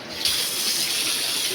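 Water suddenly gushes from an open tap and keeps running in a steady, close hiss, with no voices.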